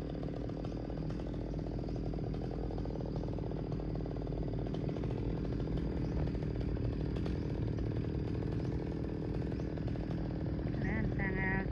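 A chainsaw drones continuously at steady revs, cutting through a large tree trunk at moderate distance, with occasional faint voices underneath.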